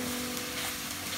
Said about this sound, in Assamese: কলডিলখিনি দিয়াৰ পিছতো আপুনি ভাজি থাকিব ভাজি থাকিব